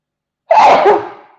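A single loud sneeze close to the microphone in a talk-show studio, one sharp burst that trails off after about a second, heard alone with no talk.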